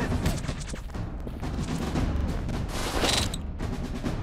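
Dense, booming gunfire from an FPS shooting game rolls on continuously, loud and close, with explosion-like thuds mixed into the game's sound.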